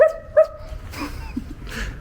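A dog gives a couple of short, sharp barks close by at the start, followed by quieter background noise.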